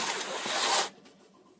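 A short strip of tape is pulled and stuck onto the lid of a seed container, a close tearing rip lasting under a second before dropping to quiet handling.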